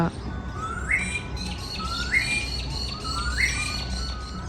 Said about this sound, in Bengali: এত সুন্দর পাখির ডাক শোনা যায় এসব জায়গায় সকালে উঠে